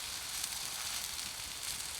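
Peppered steak sizzling in a pan inside a winter shelter, a steady faint hiss of frying with no speech over it.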